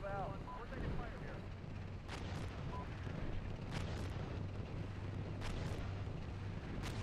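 Artillery shells landing in the Steel Beasts tank simulator: three or four dull, distant booms at spaced intervals over a steady low engine rumble and wind-like hiss.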